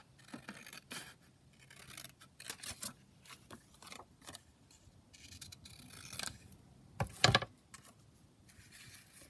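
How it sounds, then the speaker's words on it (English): Scissors snip out a paper tag for a handmade booklet in a series of quiet, irregular cuts with faint rustling of paper between them, one sharper crunch near the end; no one speaks. "So just cut this one out."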